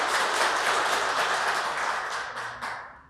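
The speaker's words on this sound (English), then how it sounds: "I think that deserves a round of applause." Audience applause at a police academy ceremonial kickoff, a dense steady wash of many hands clapping that stays loud and then tapers at the end, with no talk over it.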